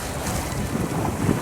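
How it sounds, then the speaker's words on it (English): Wind roars past the microphone aboard a sailboat on a beam reach in 12 to 15 knots, a brief steady gusting rush with water noise beneath. "12 to 15 knots of wind."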